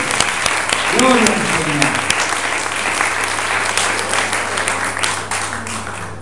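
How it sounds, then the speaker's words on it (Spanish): Church congregation applauding together during an evangelical service, steady dense clapping throughout while a voice calls out praise over it. "Aplaudale al Señor, aleluya"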